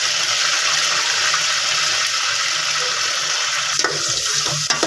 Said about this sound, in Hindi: इसे पहले फ्राई कर लूँ मैं थोड़ा सा, यानी कि इसे ब्राउन करूँगी।